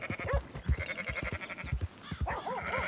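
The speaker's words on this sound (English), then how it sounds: "Is that sheep?" Sheep bleat from the Red Dead Redemption 2 video game, several wavering cries over a busy bed of game sounds and thumps, fairly faint overall with no talk.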